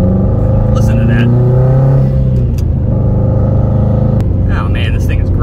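Engine of a 2006 Subaru WRX STI during a test drive, a loud, close, rumbling drone that rises in pitch as it revs, with speech heard over it inside the car.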